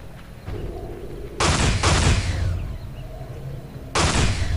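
Loud booming blasts of cannon fire in the game Infernal, one around the middle and another near the end, each trailing into rumbling noise with no talking.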